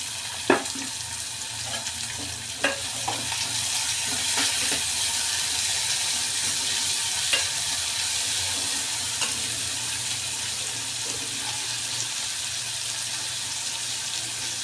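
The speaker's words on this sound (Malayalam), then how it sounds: "ഇപ്പോൾ അതിലേക്ക് ചെറിയ ഒരു രണ്ട് സവാള ചെറുതാക്കി മുറിച്ചത് അതിലേക്ക് ഇടുന്നുണ്ട്." Two small chopped onions fry in hot oil for an egg curry, a dense, even sizzle running throughout with a few faint clicks and knocks near the start, close and without speech.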